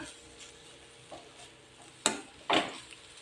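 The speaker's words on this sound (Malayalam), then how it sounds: "ഇനി നന്നായി ഇളക്കിയിട്ട് യോജിപ്പിക്കാം" A spoon scrapes and stirs food around a pan on a stove, quiet shuffling broken by two sharper clacks of the utensil near the end, with a faint sizzle in the background.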